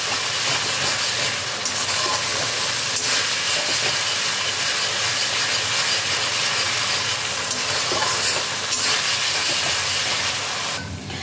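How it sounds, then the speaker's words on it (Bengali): Ginger-garlic paste frying with onions for chicken do pyaza, giving off a loud, steady hiss that runs unbroken the whole way, with no talking. "আদা রসুনের পেস্টটাকে পেঁয়াজের সাথে ভালো করে কষাতে হবে"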